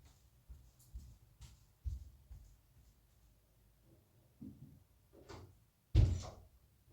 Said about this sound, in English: But let me close that door.